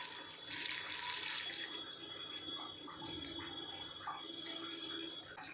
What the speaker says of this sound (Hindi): अब इसमें डाला जाएगा ये 1 गिलास पानी।